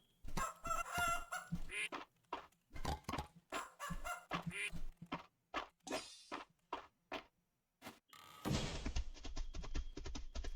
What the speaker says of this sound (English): Somebody tell Shooper, this game also has ducks in it